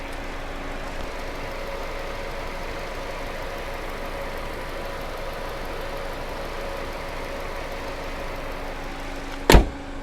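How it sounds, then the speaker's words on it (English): A 2021 Genesis GV80 2.5-liter turbo engine idles close by with a steady, even hum and faint mechanical whir, broken by a sharp click near the end. "you probably couldn't hear me over the engine"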